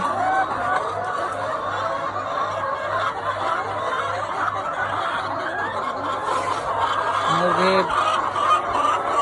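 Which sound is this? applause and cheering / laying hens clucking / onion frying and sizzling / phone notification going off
laying hens clucking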